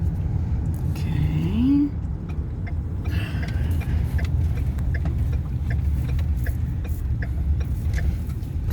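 Car interior on a winter road trip to Fundy National Park, with a steady low road and engine rumble throughout and occasional voices talking over it.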